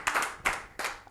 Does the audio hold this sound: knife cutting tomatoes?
no